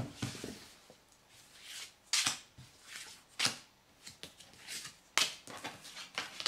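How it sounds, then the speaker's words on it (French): Tarot cards are shuffled and drawn by hand in bursts of papery riffling and soft slaps, close and fairly quiet, with short pauses between handfuls. "Donc je vais maintenant tirer les 3 cartes de tarot"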